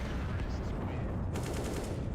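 Counter-Strike gunfire crackles in a steady rattle during a tournament match, with a sharper burst of shots near the end. A low hum of background noise runs underneath.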